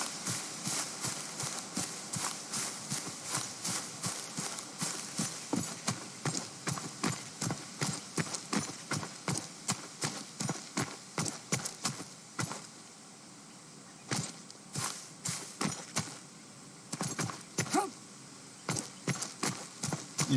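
Horse hooves clip-clop in the medieval game Robin Hood: Sherwood Builders, a brisk, regular trotting rhythm of sharp close knocks that pauses briefly midway, then resumes, with no talking.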